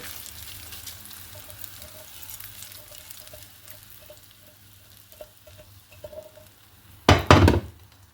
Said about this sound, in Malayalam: അങ്ങനെ ഞാനിത് താളിക്കുകയാണ്.